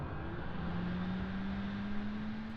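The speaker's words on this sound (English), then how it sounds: "The APU will spool up." The APU of a Ka-50 Black Shark 3 helicopter in the DCS World flight simulator spools up, a steady hum under a thin tone that climbs slowly in pitch, fairly quiet, with no speech.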